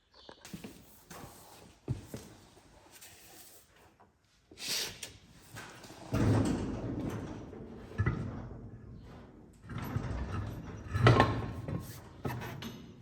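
A wheel is worked onto the Quick Performance 9-inch rear end of a 1950 Ford F1 with wheel tubs, heard as intermittent metallic clunks, knocks and scraping shuffles in uneven bursts with a short quiet pause between them.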